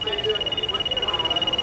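A thin, continuous high-pitched electronic buzzer whine imitating a male mosquito drones steadily, with a voice murmuring underneath.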